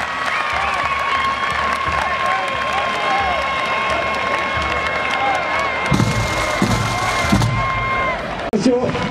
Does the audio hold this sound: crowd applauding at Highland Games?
yes